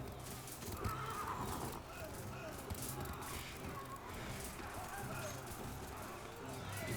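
Cavalry horses whinnying with pounding hooves as a horse unit crosses a battlefield under bow fire in the strategy game Total War: Three Kingdoms, a dense continuous din with a voice talking over it throughout.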